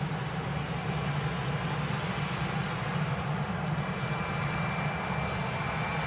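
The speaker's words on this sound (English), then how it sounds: "As this aircraft arrives out to Hurghada, another EasyJet lining up ready to go." EasyJet jet airliner arriving at Hurghada airport, a steady broad roar of engines heard from a distance, continuous and even throughout with no talking.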